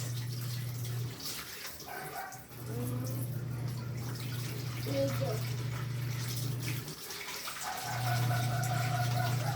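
Water runs steadily from a tap with a constant rushing hiss, under a low droning hum and faint background voices.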